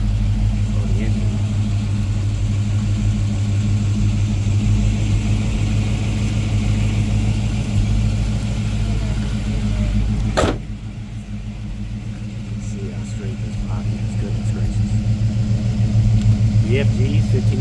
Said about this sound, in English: the heartbeat, this 350 Chevrolet engine